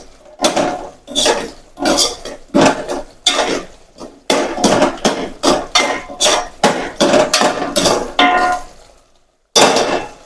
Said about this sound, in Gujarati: હવે એને આપણે સારી રીતે મિક્સ કરી લઈશું.